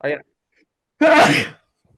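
A single sharp, forceful sneeze bursts out close up, preceded by a brief intake of breath, then silence.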